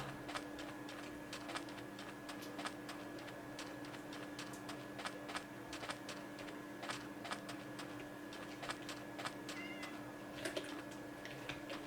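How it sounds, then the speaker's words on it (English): Minecraft cat meowing repeatedly at a low, faint level within steady game ambience, short mews scattered across the span with a few slightly louder calls. "Oh, a poor cat got stuck in there."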